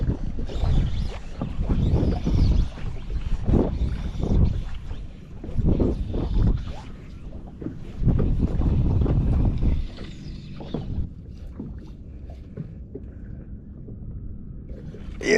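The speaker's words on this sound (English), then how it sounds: "This wind sort of got up a fair bit now, unfortunately." Gusty wind buffets the microphone on a boat drifting on Moreton Bay, with low rumbling surges rising and falling throughout, close and fairly loud, with no one talking.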